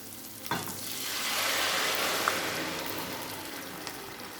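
Curd being stirred into a pot of mor kulambu, a steady wet sizzling swish that swells in the middle and continues alone with a few soft clinks.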